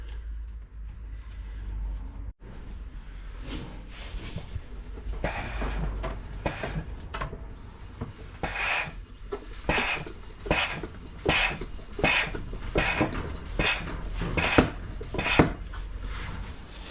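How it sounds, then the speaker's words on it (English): A Sealy suction pump draws oil out of a Land Rover Freelander 2 rear differential through a flexible hose, giving a steady run of sharp, rhythmic pumping strokes that grow louder and more regular toward the end. "So we're going to use my Sealy suction pump to pump it out."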